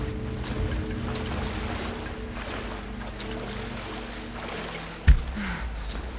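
Strong rushing water current in Rise of the Tomb Raider, a steady broadband roar running continuously with a low rumbling bed, interrupted by one sharp loud thud near the end.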